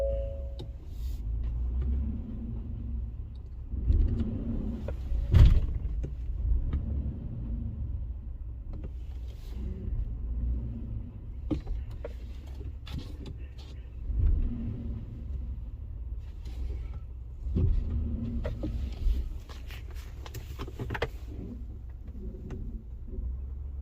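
A 2018 Ford F150 pickup with brakes stuck on drives slowly, heard from inside the cab as a low, steady engine and road rumble with occasional bumps and thuds, with no talking.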